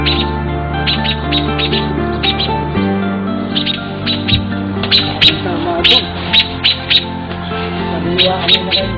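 Birds chirp and tweet outdoors in a Philippine countryside setting, with short repeated high calls in the later half over a steady background of other sound.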